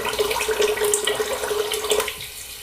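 Tap water runs steadily into a sink as shave soap is rinsed off, a close, even rush of flowing water with no talking, easing slightly near the end.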